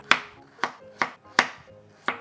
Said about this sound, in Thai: เราก็จะหั่นแครอทให้เป็นชิ้นเล็กๆนะครับ